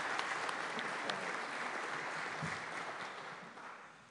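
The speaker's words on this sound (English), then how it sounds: "a round of applause for everyone here standing up tonight" Audience at a municipal election candidates' event applauding those on stage, steady moderately loud clapping that gradually tapers off, with a brief low knock partway through.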